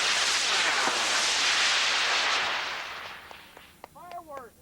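Model rocket motor igniting and launching outdoors, a long loud broadband roar that fades away over about three seconds, followed by people talking and cheering nearby.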